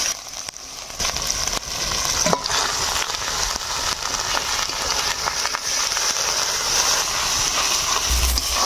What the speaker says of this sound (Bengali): এবার সবগুলাই ভালো করে নাড়ি চাড়ি কষিয়ে নিব